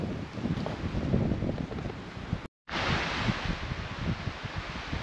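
A stream in the Belgienbach valley flows beside a hiking trail, a steady close rushing wash with a brief dropout in the middle, and no voices.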